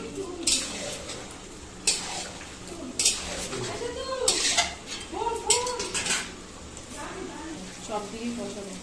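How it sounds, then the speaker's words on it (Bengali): A spoon clanks and scrapes repeatedly inside a pot as curry is stirred and mixed over the heat, in irregular bursts, while a voice talks throughout. "এবার এটা রান্না মানে নাড়াতে হবে আঁচটা বাড়িয়ে এবার ভালো করে মিক্স করে নেওয়া হচ্ছে"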